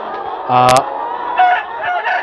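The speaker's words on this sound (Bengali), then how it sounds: "এটি প্যারেন্ট স্টক মোরগ মুরগির শেড" Parent-stock chickens cluck and a rooster lets out a short crow nearby, with more clucking calls following in an enclosed poultry shed in Shandong, China.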